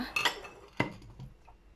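Metal utensils clink softly against a bowl while ground chili is added to Udon-style curry noodle soup, a few light taps and scrapes close by, no talk.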